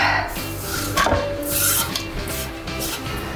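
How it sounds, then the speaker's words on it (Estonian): Chopped onion and garlic frying in olive oil in a pan, a steady close sizzle with scraping and stirring rasps over it. "Sibul ja küüslauk on nüüd hakitud ja lähevadki pannile kohe oliiviõliga."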